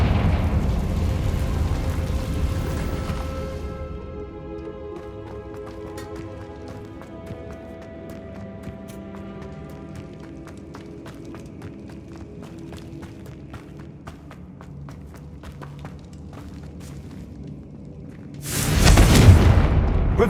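Confringo blasting spell explosion in Hogwarts Legacy, a sudden loud boom near the end after a long stretch of quiet ambient music and scattered clicks.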